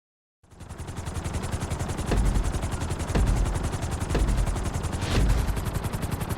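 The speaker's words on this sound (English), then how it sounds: "we're gonna put you in a helicopter" Loud, steady rapid chopping of helicopter rotor blades with a droning engine in a Grand Theft Auto game, starting abruptly and continuing throughout with periodic heavier thumps.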